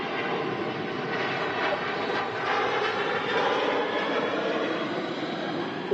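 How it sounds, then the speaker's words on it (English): A TUI Dreamliner is pushed back on the apron at Manchester Airport, its engines giving a steady, distant broadband roar that holds level and continuous with no speech. "I know it is the Tui Dreamliner being pushed back on the apron."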